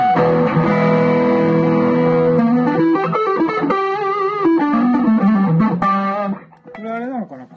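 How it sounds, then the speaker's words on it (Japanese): A Korina-bodied electric guitar plays through heavy distortion, opening on a sustained chord before moving into picked single-note lines with clear attack, then a brief bend as the sound trails off. "歪みにアタックの音が負けてないですね。"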